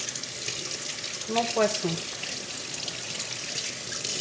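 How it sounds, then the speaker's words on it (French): Running tap water pours steadily over a whiting being rinsed at a kitchen sink, a constant hiss throughout while a voice briefly speaks over it. "Et je viens tout nettoyer, rincer à grandes eaux"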